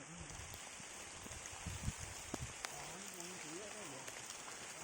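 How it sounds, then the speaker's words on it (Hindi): Heavy rain at Kodachadri falls as a steady broadband hiss, with a few close taps and knocks and faint voices under it. "बहुत बारिश हो रही थी."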